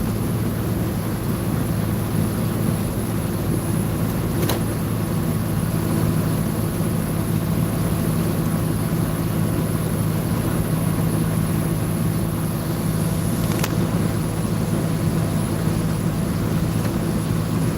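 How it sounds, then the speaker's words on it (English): A constant low mechanical drone with a steady turbocharger whine runs throughout, like a truck engine idling nearby, with no change in pitch or rhythm. "I'm thinking it's the turbo."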